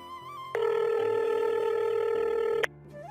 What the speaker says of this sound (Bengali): ওর বাসায় ফোন দেয়, কল হচ্ছে